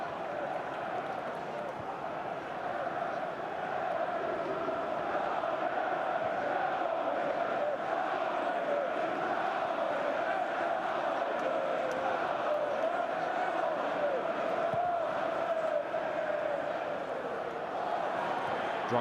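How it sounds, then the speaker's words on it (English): Football stadium crowd at a Chelsea versus Wycombe League Cup semi-final, a steady distant roar and murmur of encouragement throughout, with commentary talk over it. "Crowd sympathetically encouraging Shevchenko in his work of foraging and harrying."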